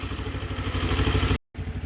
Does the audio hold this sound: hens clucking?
no